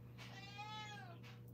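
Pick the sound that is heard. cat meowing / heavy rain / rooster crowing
cat meowing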